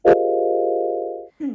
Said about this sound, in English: this weird pad thingy I made